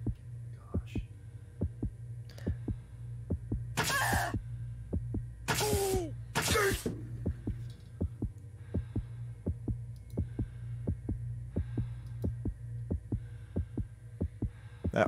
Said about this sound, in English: That heartbeat really getting into Cassidy's and Julia's ears